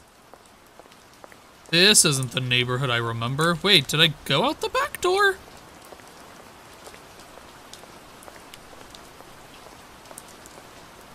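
Blood rain falls in a horror video game as a constant hissing patter that runs throughout, while someone talks over it for a few seconds early on before the rain carries on alone.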